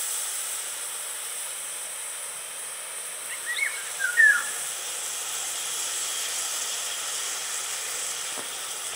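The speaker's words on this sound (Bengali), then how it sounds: "দেখুন আস্তে আস্তে ক্যারামেলটা আমার তৈরি হয়ে যাবে।" Sugar and water melting into caramel in a pan, a soft, steady hiss throughout with a few faint crackles near the middle, quiet and close, no talking.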